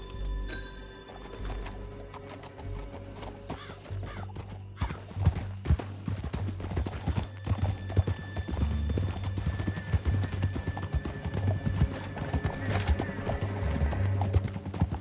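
Horse hooves galloping in Red Dead Redemption 2, a steady, rapid clip-clop rhythm that holds throughout over a low rumbling game backdrop, with a faint whinny and background sounds layered in.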